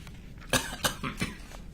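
Man in a courtroom giving a few short, separate coughs, close and moderately loud, with brief pauses between them.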